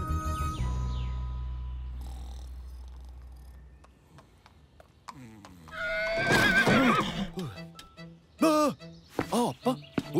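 Cartoon horse neighing and whinnying in a children's animated show, a long whinny up front then a burst of bright overlapping calls and short snorts after a quiet stretch, loud and close with no clear hoofbeats.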